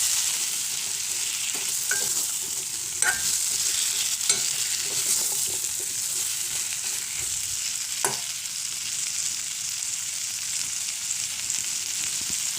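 Vegetables coated in masala sauté in oil for idli sambar, giving a steady, even sizzle with occasional soft scrapes of stirring, and no talking.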